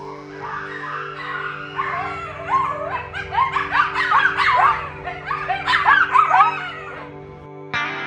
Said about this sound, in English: the screech rose up and became a chorus of cackles and yips